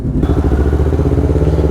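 A Yamaha R3 300cc motorcycle runs steadily close by at its unveiling, a low, throbbing engine note with a faint rattly clatter and no talk over it.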